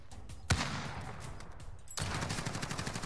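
Gunfire in the Call of Duty Warzone video game: one sharp, loud shot rings out early, followed after a pause by a sustained, rapid rattle of automatic fire that continues to the end, with no talking over it.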